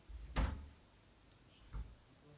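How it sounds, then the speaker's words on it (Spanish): A cat bumps and rattles a door somewhere indoors, making two faint, dull knocks about a second apart against a quiet room. "No se asusten de los ruidos de la puerta,"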